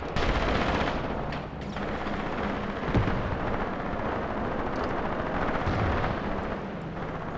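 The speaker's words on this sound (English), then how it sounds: "And now intense mortar fire." Heavy, continuous mortar fire in the war game Graviteam Tactics, a dense rumbling roar of distant blasts that stays loud through the whole stretch, with a few sharper impacts.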